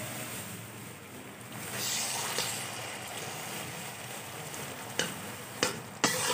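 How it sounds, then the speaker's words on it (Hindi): Chicken sizzling and frying in a pan for chow mein, a steady broadband hiss throughout with a few sharp clacks of a utensil near the end. "तो इसको पहले चिकन को फ्राई कर लेते हैं।"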